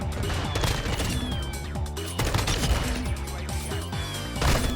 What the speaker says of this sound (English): I know it's a shotgun and this is Shipment